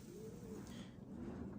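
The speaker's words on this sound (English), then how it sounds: "this cock is a pigeon that tangled with 2 hens at least over in the other loft" A Turkish Takla pigeon cock cooing inside a loft, a low soft rolling coo that rises and fades, faint against a steady background hum.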